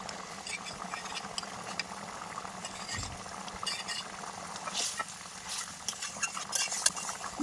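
Hilsa fish curry gravy with elephant foot yam bubbling in a pot, a soft continuous simmer with occasional clinks of a utensil against the pot.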